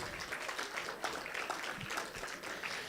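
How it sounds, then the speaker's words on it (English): Audience applause for the president at a black-tie event, a steady wash of many hands clapping, moderately distant and fairly soft, sustained without a break. "A round of applause for your president,"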